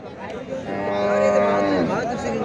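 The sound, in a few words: cow mooing at a cattle market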